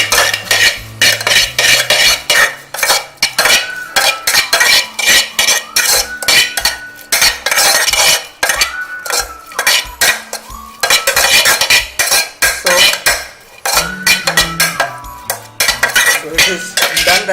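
A spoon works through peri peri chicken in a metal pan, producing loud rhythmic clinks and scrapes against the pan in rapid bursts over a faint background sizzle, close and busy with brief pauses.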